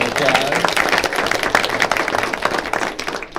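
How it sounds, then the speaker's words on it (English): A room of people at a school board meeting gives a round of applause for student senators, dense sustained clapping filling the whole stretch, close and loud. "Nice round of applause."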